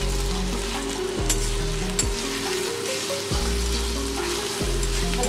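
Onion, garlic paste and ginger paste fry in hot oil, a loud, continuous close sizzle with a few scraping stirs and small clatters mixed in.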